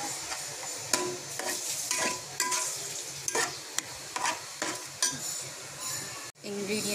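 Fried chicken is stirred into Schezwan fried rice in a sizzling pan, with repeated scraping and clattering spatula strokes over a constant frying hiss, close and fairly loud.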